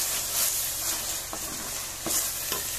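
Cauliflower and peas frying in a pan while being stirred, a steady close sizzle with a few soft scraping clicks of the spoon, no voices.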